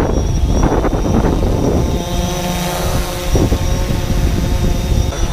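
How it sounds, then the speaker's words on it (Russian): DJI Phantom 4 quadcopter drone hovering in place outdoors in snow, its loud continuous propeller whine and buzz close by with slight shifts in pitch. "Ведет себя коптер довольно предсказуемо, висит на месте с отпущенными стиками."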